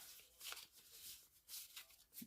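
Quiet, papery riffling in short bursts as a deck of cards is shuffled, a few quick flurries with small gaps between them.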